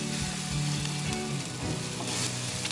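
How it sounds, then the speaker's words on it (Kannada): Onion and tomato fry with turmeric in a pan for tomato chitranna, giving a dense, even sizzle with faint stirring scrapes, close and continuous, no talking. "ಫ್ರೈ ಮಾಡ್ತಾಯಿದ್ದೀನಿ."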